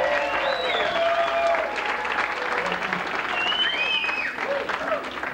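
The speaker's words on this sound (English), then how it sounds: "how about a nice round of applause? 1 year of the Marty Shield Show, let's hear it." A studio audience marking the first anniversary of a comedy talk show breaks into steady, full applause mixed with cheering and several rising whistles, continuous throughout.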